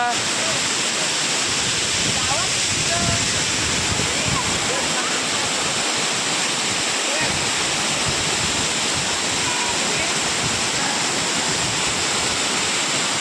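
Vyaghreshwar waterfall at Manche in Konkan pours down in a loud, unbroken roaring rush of falling water, with indistinct voices of people nearby beneath it.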